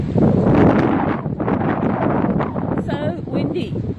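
Strong wind on the coast at Coffs Harbour, New South Wales, roars steadily across the microphone with gusty buffeting, and a voice talks faintly beneath it.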